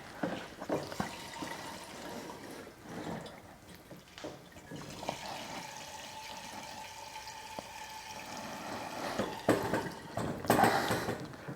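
Gasoline pouring from a 5 gallon gas can through a replacement nozzle and hose, a gurgling, trickling liquid stream with irregular glugs and splashes, close and moderately loud, with no talking.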